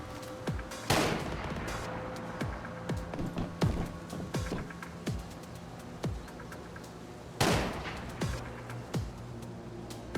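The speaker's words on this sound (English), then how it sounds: "Whoever is shooting there, a horrible shot." Gunfire in the survival game Once Human: scattered single shots, some distant and some closer, with two louder bursts standing out over a steady ambient background, no talk.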